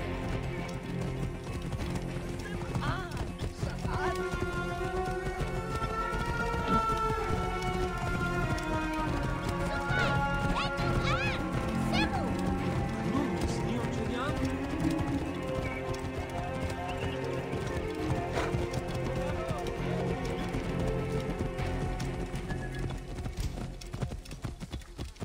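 Horse hoofbeats clip-clop steadily in Assassin's Creed Origins, a mare neighing and whinnying over a constant dense backdrop of game music and ambience, with no one speaking.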